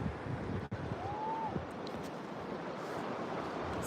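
Soft, steady wash of ocean waves at a beach around sundown, faint and continuous, with light wind noise and a brief knock near the start.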